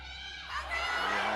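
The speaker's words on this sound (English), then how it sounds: "A huge cheer here." Crowd at a StarCraft esports finals match swells into a big cheer, rising broad roar building over a second, with a commentator talking over it in a large venue.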